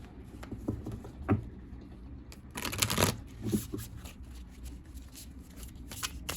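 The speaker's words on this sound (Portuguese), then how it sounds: "Vamos lá embaralhar bastante para não correr o risco de pegar as mesmas cartas" A deck of oracle cards being shuffled by hand, close and quiet, with soft riffling flutters and light patting taps in uneven bursts.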